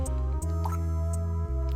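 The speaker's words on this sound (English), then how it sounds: "I can't confirm any sound except for the water drops and Little John's shorting out" Water drips in the Sega CD game Snatcher: a few soft, isolated drops land over a steady, sustained electronic drone.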